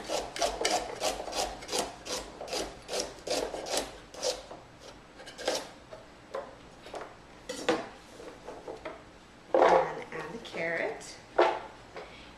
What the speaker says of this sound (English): I'm just going to quickly chop up the carrot